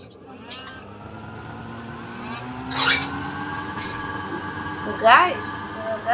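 A snowmobile engine accelerates hard over snow, a steady close motor drone that climbs and surges in pitch, with brief louder bursts near the end.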